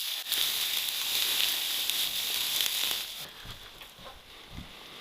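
Soft, crinkly rustling of hay close by, dry material shifting and crunching in irregular bursts over a quiet hiss.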